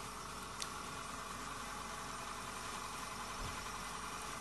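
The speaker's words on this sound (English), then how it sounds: "You can hear the motor running." A milk float's electric traction motor runs under PIC-driven IGBT PWM control, making a steady, even electrical hum and drone with faint high whine throughout and a couple of small clicks.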